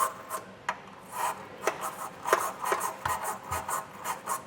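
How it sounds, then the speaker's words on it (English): A small brush scrubbing out the factory weld nuts on the frame of a 2023 Kia Sorento, repeated rough rasping strokes in an uneven rhythm, close and fairly loud with no speech. "it's good practice to get a brush and just kind of clean them out a little bit"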